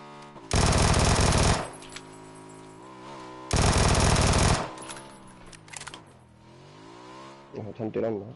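Two long, loud bursts of automatic gunfire rake toward the player in PUBG on PS5, each lasting about a second, over a droning vehicle engine that rises and falls, with brief voices near the end.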